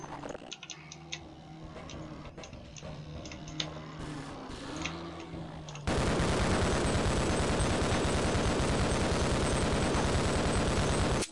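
Magnum revolver fire in the video game Half-Life: Opposing Force, with a few sharp shots over game ambience, then a loud, dense burst of rapid gunfire filling the second half.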